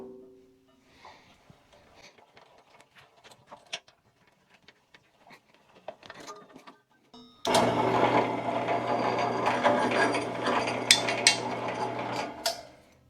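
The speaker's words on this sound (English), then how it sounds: "drill a 1/8 inch hole right there" A 1/8 inch hole drilled into a wooden phone holder piece: a few seconds of faint handling clicks, then a power drill starts abruptly, whirring loud and steady with a low motor hum before stopping.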